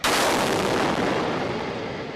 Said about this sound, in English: That's the accidental explosion.